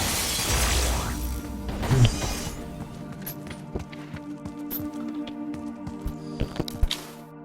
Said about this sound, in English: this should be powerful enough to break the glass above